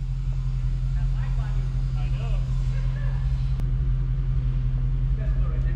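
A 2020 Dodge Charger Scat Pack widebody pulls in with its engine giving a loud, steady, deep rumble throughout, while people talk over it.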